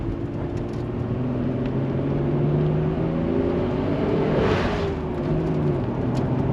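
An old Honda Civic engine drones steadily from inside the car on the drive home, a low, even hum with a brief swell near the middle and no talking.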